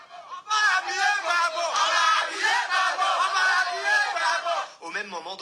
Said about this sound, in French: À l'entrée du palais, ils sont des centaines à applaudir leur président